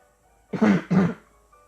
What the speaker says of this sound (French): Désolé, je vais tousser.